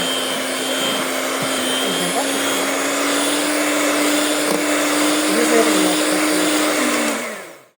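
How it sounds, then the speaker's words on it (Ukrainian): A mixer whips icing with powdered sugar for a Ukrainian Easter paska, a loud steady motor whine with a constant pitch that runs throughout and then winds down at the end. "Додаємо цукрову пудру та ще раз збиваємо."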